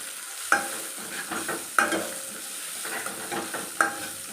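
A spoon stirs asafoetida through a rasam tempering in a pan, with several sharp metallic scrapes and clinks at irregular intervals over a faint, soft sizzle, close and alone.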